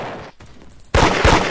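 Gunfire in a raiding video game, a short loud burst of shots after a quieter stretch, two heavy cracks close together.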